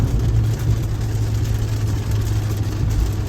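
A Kia K5 with the 1.6T engine and a JB4 tune, held at about half throttle, a steady low engine drone with a faint rising hum, heard from inside the car.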